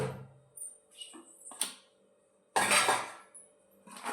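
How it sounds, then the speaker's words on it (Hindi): Kadai, an Indian wok, scrubbed and rinsed while being washed, with sharp metallic clanks and scrapes in separate bursts and a louder scouring rush near the end, close by. "ये देखिए, मेरी कढ़ाई को मैं मांज देती हूँ"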